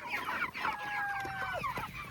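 Meat chickens on a farm clucking close by while being fed, several birds giving short overlapping clucks and a drawn-out squawk, with no talking.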